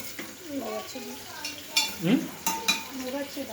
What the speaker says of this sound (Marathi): कांदा टोमॅटो वगैरे टाकला आहे तेलामध्ये, कढीपत्ता पण टाकला